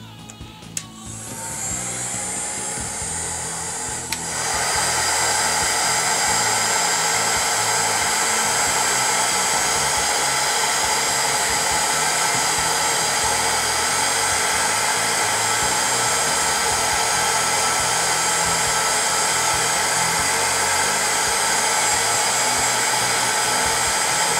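A heat gun blows hot air onto a plastic starship model, a steady loud whooshing roar that starts softer and jumps to a higher setting, then runs continuously without any talk.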